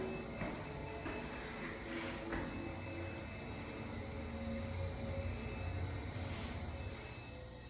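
A Gold West Coast GAL elevator at Dillard's in Coastland Center runs with a faint, steady low rumble and hum that holds evenly throughout, with no voices.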